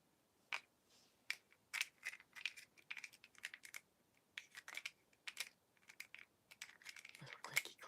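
Clicky keys or a small clicky object tapped close for a lo-fi ASMR session: sharp, irregular clicks and clacks come in quick bursts with short pauses and stay crisp and near, with no talking.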